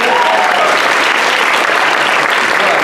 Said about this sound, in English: I want to just give a quick hand clap to Dave